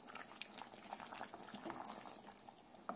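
Chicken curry boiling in a pot, heard as quiet, continuous bubbling and popping with scattered small splutters.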